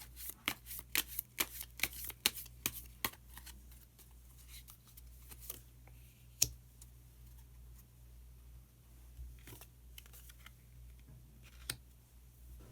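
Tarot cards are shuffled up close before a card is drawn, with a quick burst of riffling clicks early on followed by sparser soft taps and slides in a quiet room.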